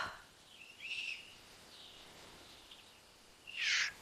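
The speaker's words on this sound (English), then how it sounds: "I wake up to birds singing." Birds singing at a camping spot by a lake: a few faint, distant high chirps and whistles over quiet outdoor ambience, the clearest call near the end.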